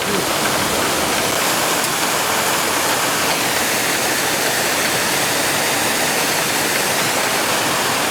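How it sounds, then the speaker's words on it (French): A mountain torrent flows beneath a bridge in a constant, dense roar of rushing water. It is loud and close, with no talk over it. "Et le torrent est surmonté d'un pont."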